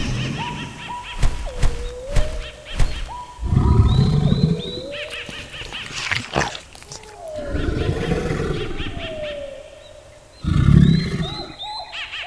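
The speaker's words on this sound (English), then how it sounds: "Do you hear that? Uh-oh. I wonder what's coming. It's a Tyrannosaurus Rex." A Tyrannosaurus Rex roars in a jungle scene, several long, loud bellowing roars with heavy thumps between them, mixed with bird calls and other animal cries in the background.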